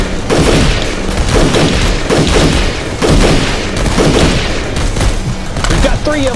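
Loud, dense gunfire rings out in a rapid fusillade, with repeated sharp bursts and booming shots overlapping nearly continuously for several seconds.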